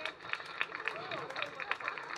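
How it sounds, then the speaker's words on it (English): Audience applause at a photography awards ceremony, steady clapping from many hands with a continuous, moderately distant wash of rapid claps under crowd murmur. "Loud applause."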